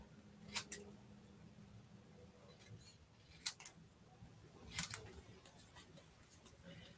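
Scissors snip through a thin paper strip for a handmade card in a few quiet, separate bursts, each a short crisp double cut, with soft handling noise between them and no talking.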